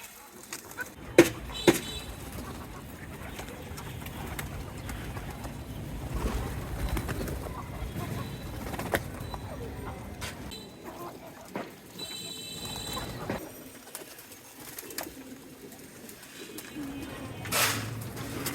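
Pigeons coo softly in a household setting where baby pigeons are being fed, the low murmurs spread through a long stretch under people talking, with scattered knocks and clicks.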